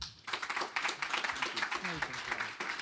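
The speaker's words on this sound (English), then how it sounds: "One big round of applause." Audience at a conference stage clapping for a speaker who just finished a talk, a short burst of applause mixed with a voice talking over it, fairly near and even.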